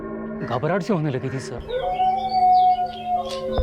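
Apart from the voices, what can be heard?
dog howling eerily at night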